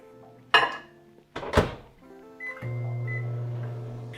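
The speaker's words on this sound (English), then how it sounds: "We'll stick it in the microwave." Two thumps of a door closing, a couple of beeps, then the steady low hum of a microwave oven starting up nearby to melt a stick of butter.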